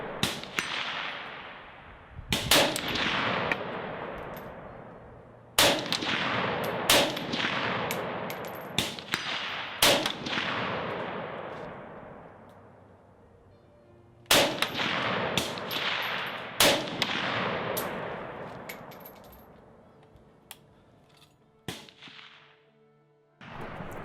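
Russian SKS semi-automatic rifle firing in Escape from Tarkov, single sharp shots spaced a few seconds apart, each loud crack followed by a long fading echo, with reload clatter between.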